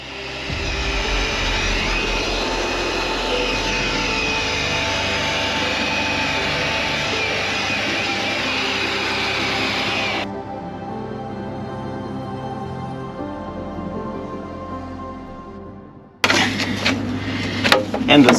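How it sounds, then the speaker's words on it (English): A blower pushes air into a rising damp repair, a loud steady broadband rush that holds for about ten seconds, drops to a softer steadier roar, then cuts and returns with harsher bursts near the end. "let's blow it a little bit"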